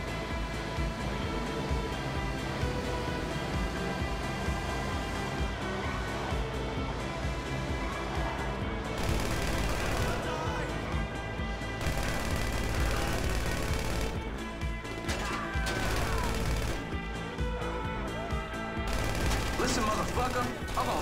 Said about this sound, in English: All the gunfire is making everybody be stupid